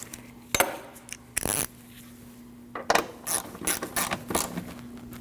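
A ratchet tightens a 13mm bolt on the liftgate support of a 2003-2008 Subaru Forester, sounding as short bursts of quick metallic clicking with brief pauses between strokes, close and clear.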